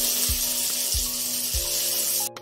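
Ridge gourd frying in hot oil gives a steady, close hissing sizzle that runs throughout, with a few soft low thumps at regular intervals and no talking.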